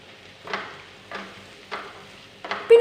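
A spoon stirs soya chunks curry masala with turmeric in a pan, giving four evenly spaced scraping strokes over a faint sizzle, close and clear with no talking.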